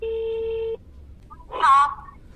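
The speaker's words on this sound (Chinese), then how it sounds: "接下来咱们打两个电话问一下子啊" A telephone is dialed to call a seller about a house: a steady dial tone lasts under a second, followed by a short burst of higher tones and faint background noise.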